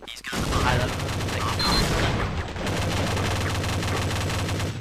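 Rapid automatic fire from an M4 carbine in Counter-Strike: Condition Zero, a dense stream of rattling shots close by, with a brief pause before the bursts resume.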